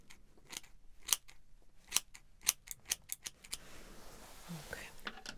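Scissors snip hair close to the ear during an ASMR haircut, a run of crisp, separate metallic cuts at an uneven rhythm, then quieter rustling and faint whispering.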